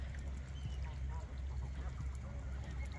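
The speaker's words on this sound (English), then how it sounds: "Ain't no big geese gonna scare him off or her off." Geese honking with ducks quacking among them at Lake Tomahawk, a steady mix of waterfowl calls close by, with a person talking over the birds.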